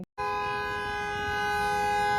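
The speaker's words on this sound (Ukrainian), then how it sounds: "що вони не забувають робити, так це сигналити" Car horns honk in Chinese street traffic, one long sustained blare starting after a brief silence and holding loud and steady to the end.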